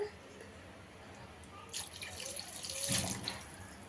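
Water poured from a glass into a pot for green chicken biryani rice, a soft splashing trickle that swells and fades in short bursts against a quiet room, close and fairly faint.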